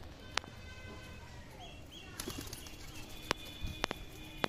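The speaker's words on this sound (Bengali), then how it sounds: "আমি এদিকে আসলে সব পায়রা চলে আসছে বন্ধুরা" Desi giribaz pigeons cooing and flapping around a rooftop loft at feeding time, sharp wing claps and soft calls over a quiet outdoor background with no talk.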